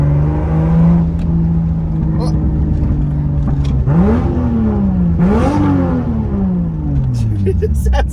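Turbo Toyota Supra with an intercooler pipe off, engine idling then revving twice in quick rises and falls before settling back, loud and close with voices talking over it.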